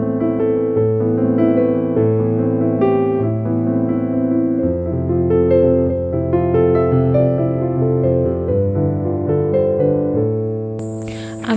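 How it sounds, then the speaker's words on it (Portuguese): Digital piano recorded through a Motu M4 audio interface, playing a sustained, clean passage of chords and melody at a steady moderate level with no talking. "Então, esse é o som do piano."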